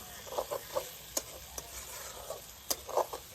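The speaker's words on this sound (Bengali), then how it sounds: "আবার আমি এটাকে নাড়িয়ে নেব।" Whole eggs in an onion curry stirred in a pan: a soft low sizzle underneath scattered scraping and tapping strokes of a spoon, several quick clicks and knocks spread over a few seconds.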